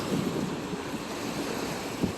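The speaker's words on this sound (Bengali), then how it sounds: "প্রচণ্ড ঢেউ" Strong sea waves around an island at Langkawi, Malaysia, where fishing boats are moored, heard as a steady, rushing wash of surf mixed with wind buffeting the microphone, moderately loud and continuous with no voices.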